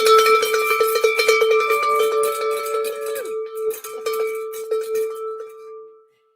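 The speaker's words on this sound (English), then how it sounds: "We got our bells a ringing" A bell rings with a sustained metallic tone under rapid clattering strikes, the ringing gradually fading out to silence at the end.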